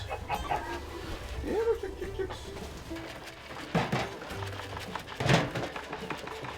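Backyard chickens cluck and murmur nearby in short irregular bursts, with a couple of louder squawks over a low background hum and some speech.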